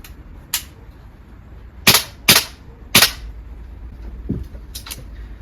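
VFC V3 gas blowback airsoft rifle firing single shots: three sharp, loud cracks close together in the middle, with a couple of fainter clicks and knocks around them.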